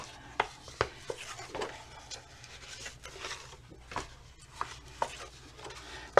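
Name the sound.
paper hinge being folded back and forth like an accordion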